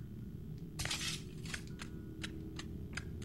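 A pane of glass shatters loudly in the horror game Saw, a bright crash followed by a scatter of tinkling shards and several separate clinks dropping one after another over a low room hum.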